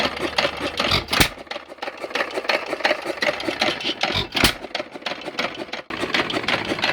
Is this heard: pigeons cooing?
no